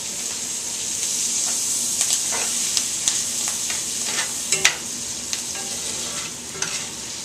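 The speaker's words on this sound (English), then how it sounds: "Then I'm going to put my celery in first. It takes a tad longer to saute than onions do" Celery sautés in butter in a pan with a continuous bright sizzle, broken by sharp clicks and taps of a utensil stirring against the pan.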